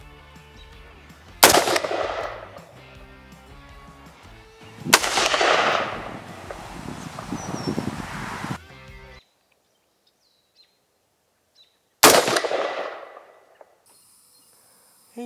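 Three loud rifle shots fired outdoors while sighting in, each a sharp crack with a long rolling echo, separated by quiet pauses.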